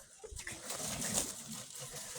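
Male pigeons of a pet flock coo softly in a loft, low murmuring calls mixed with light rustling and a couple of faint sharp clicks.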